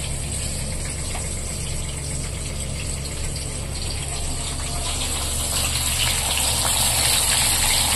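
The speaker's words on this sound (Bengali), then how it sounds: "দেখুন মাছগুলো একটু ভেজে নি।" Fish heads frying in oil in a pan for a mung dal dish, giving a steady, dense sizzle that holds close and continuous throughout, slightly louder toward the end, with no talking.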